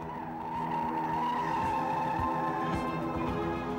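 A captured WWII military aircraft brakes hard and turns on a secret airfield runway, a loud continuous screeching, squealing tone with engine rumble underneath, close and steady.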